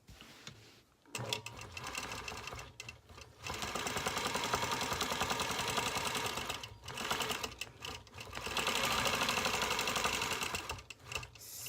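A sewing machine does free-motion quilting along a ruler on a border design, its needle running in fast, even bursts that pause briefly between stitching runs, loud and close.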